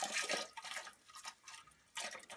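Liquid antifreeze splashes and gurgles as it is poured from a cup into a toilet bowl while a cabin is winterized, with short bursts of pouring broken by brief pauses, close by and moderately loud.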